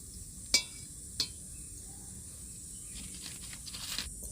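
Mithai dough frying in oil in a pan, giving a faint, steady hiss with two sharp utensil clicks early on and a slightly busier bubbling toward the end.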